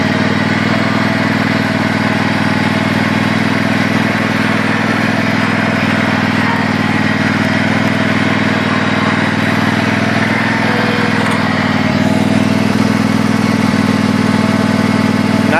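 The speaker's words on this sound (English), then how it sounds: "Not too shabby for the Toro time cutter" A Toro TimeCutter zero-turn lawn mower engine drones loudly and continuously at a steady pitch while mowing, close up and without any talking.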